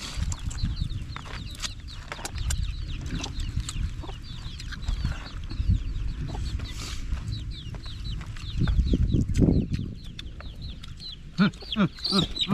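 Chickens cluck in short, scattered calls over a steady outdoor background, with occasional louder bursts and people talking nearby.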